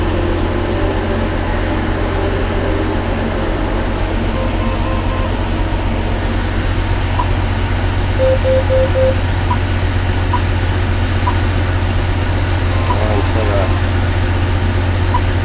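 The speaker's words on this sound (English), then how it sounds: "we're going to set this into a knife sharpening process here" A John Deere 8700 forage harvester runs its chopper knife sharpening cycle, a loud, steady mechanical drone with a low hum and faint intermittent ticks, while someone talks over it.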